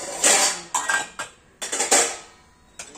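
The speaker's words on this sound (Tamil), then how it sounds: "ஒரு பாத்திரம் அடுக்கிட்டு நம்ம இப்படி அடுக்கக்கூடாதுங்க." Metal dishes, pots and cutlery are stacked in a kitchen, giving a series of loud, close clanks and rattles in irregular bursts with short quiet gaps between them.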